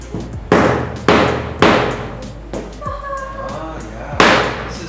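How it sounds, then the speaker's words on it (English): A 2 mm multi-prong hole punch is struck repeatedly with a hammer, five sharp, loud, close blows spaced about half a second to a second apart. "Since these are 2 mm hole punchers, so it needs more hammering"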